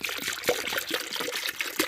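Coolant poured into a self-bleeding funnel on a Honda J35 V6 engine, a steady close trickle and splash of liquid with small gurgles as air escapes, no talking.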